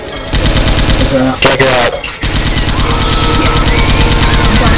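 Rapid automatic gunfire in Left 4 Dead 2, loud dense bursts pounding almost nonstop, briefly dropping out mid-clip before resuming, with a voice speaking over it.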